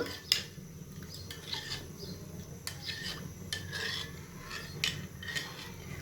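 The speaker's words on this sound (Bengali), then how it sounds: "তো বন্ধুরা, গুঁড়ো দুধটা আমি ভালো করে দুধের সাথে মিশিয়ে নেব।" Powdered milk being stirred into milk, a spoon rasping and scraping softly against the bowl in quick repeated strokes, close and quiet with no talk.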